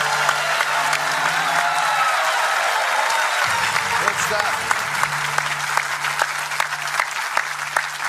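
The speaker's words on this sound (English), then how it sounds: "Stop clapping yourself." A studio audience on a quiz show applauds loudly and continuously, a dense wash of clapping while someone speaks briefly over it.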